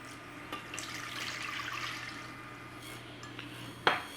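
Water pouring from a container into a cooking pot of melting butter for keto grits, a continuous splashing stream with faint clinks of cookware and a sharper knock near the end.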